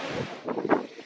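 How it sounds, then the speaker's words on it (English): Gusty wind buffets the microphone in rough, uneven bursts, loud and close, with no voices. "To say it's a little windy out today would be an understatement"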